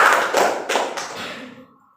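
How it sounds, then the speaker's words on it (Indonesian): A few students clap in a classroom, a short scattered burst of hand claps with some heavier taps that quickly trails off into silence. "Berikan tepuk tangan."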